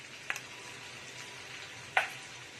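Onions frying in a pan, a soft, continuous low sizzle with two brief sharper crackles or utensil taps standing out.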